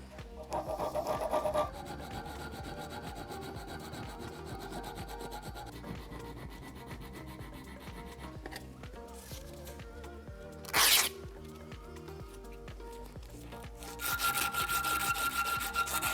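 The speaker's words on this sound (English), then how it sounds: "It's like a little bit of a crosshatch with a file." A hand file works a metal torch holder in alternating crosshatch directions, giving a steady rasping scrape that runs continuously, with a short sharp burst partway and a louder, brighter stretch of filing at the end.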